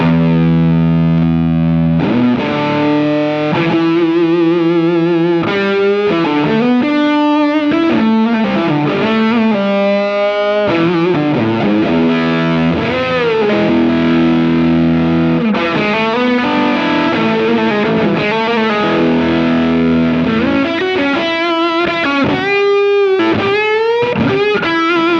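A Reeves RedDotSound tone bender fuzz pedal on an electric guitar, played loud and thick with sustained distorted chords and bends changing steadily over a long passage, with no talk.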